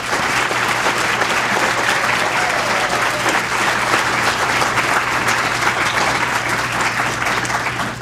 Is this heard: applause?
yes